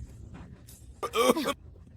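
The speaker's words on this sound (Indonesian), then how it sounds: "Batuk ini sudah menggangguku lama, tidak kunjung sembuh." An older person gives a single short, raspy cough close by in a quiet room, preceded by faint breathy sounds.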